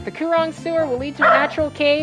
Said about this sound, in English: Sorry about the barking, that's a goblin.